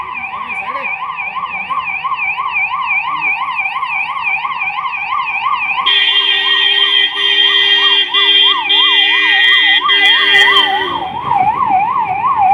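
A loud, close ambulance siren on a Mahindra Bolero ambulance, wailing in rapid rising and falling cycles, shifting pitch midway and continuing steadily throughout.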